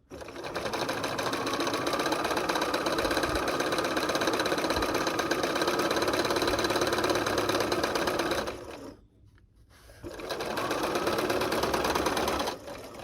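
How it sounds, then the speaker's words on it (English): A sewing machine stitches a quilt seam in a fast, steady mechanical whir close by, running continuously, pausing briefly for about a second, then resuming. "Lift up the foot pedal, slide it against the needle, take 2 or 3 stitches."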